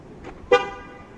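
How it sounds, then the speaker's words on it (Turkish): A single short, close car horn chirp from a Ford Kuga locking its doors, bright and brief, heard against quiet background noise. "Kapılarımız kapalı. Korna ile geri bildirimde bulunur."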